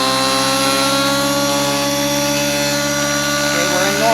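A nitro RC helicopter lifts off, its engine and rotor holding a loud, steady, tonal whine that rises in pitch near the end.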